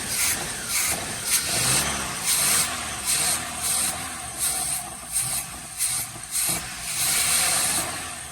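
A 1973 Chevrolet K5 Blazer engine idles after sitting for over 30 years, running with a steady mechanical clatter and rhythmic ticking pulses that repeat about once a second, fairly close and with no talking.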